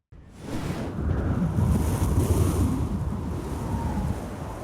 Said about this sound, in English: The southeast wind begins to howl.